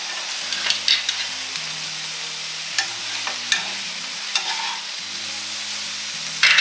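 Onion sizzles steadily in a hot pan with a bed of frying crackle, broken by a few sharper spatters and stirring scrapes, close and alone with a low hum underneath.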